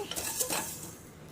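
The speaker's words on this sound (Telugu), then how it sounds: "ఇలా వేసుకున్న తర్వాత మీడియంలో పెట్టుకొని మంటని ఇలా ఫ్రై చేసుకోవాలి" Ingredients for coriander chutney are stir-fried in a pan over medium heat, producing a brief, quiet burst of scraping and faint sizzle that fades out quickly.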